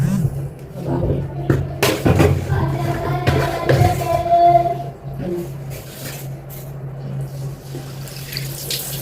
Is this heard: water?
yes